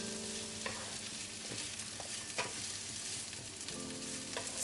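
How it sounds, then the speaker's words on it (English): Vegetables frying with black bean paste in a pan, a soft, steady sizzle broken by spatula scrapes and light knocks against the pan, close and fairly quiet with no voices. "what I decided to do is to cook the vegetables together with the black bean paste"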